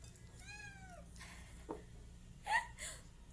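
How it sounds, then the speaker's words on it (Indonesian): A cat meows a few times, short quiet calls spaced apart against a hushed room. "Kamu tahu di situ ada kucing."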